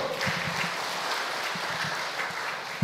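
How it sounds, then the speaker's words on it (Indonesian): A church congregation gives applause for GKI Klaten, a steady wash of many hands clapping at moderate volume, with a few louder individual claps standing out. "Tepuk tangan buat GKI Klaten dulu"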